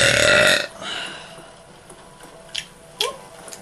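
A single loud, close burp rises at the start and fades out after about half a second, followed by faint background game sounds and a couple of short clicks, recorded during a zombies video game session.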